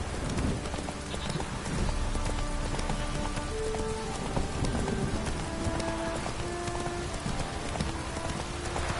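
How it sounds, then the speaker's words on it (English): Steady downpour in The Witcher III, a dense hiss of rain on the ground with faint hoofbeats from a horse running beneath it. "This downpour's a bastard,"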